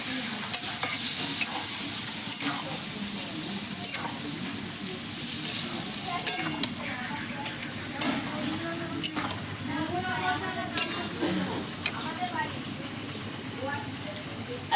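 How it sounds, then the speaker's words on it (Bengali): Chicken for green chicken curry stir-fried with green paste in a pan: steady sizzling with repeated scraping and stirring strokes throughout, a voice talking over it now and then. "গ্রিন চিকেনে এই গ্রিন গ্রিন হবে এইটাই মেন দিয়ে একটু চিকেনের সঙ্গে ভালো করে কষিয়ে নেবো"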